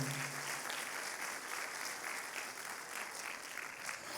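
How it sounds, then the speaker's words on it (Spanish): A congregation at a Sunday church service applauds first-time guests, a fairly quiet, steady patter of many hands clapping, with a brief low tone at the very start. "Demos un aplauso a estos invitados de esta"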